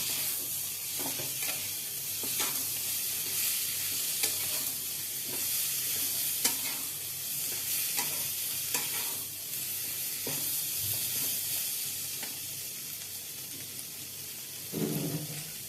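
Chilli chicken pieces with chopped green chillies fry in a pan, giving a steady close sizzle broken by repeated scraping stirs, with no voices.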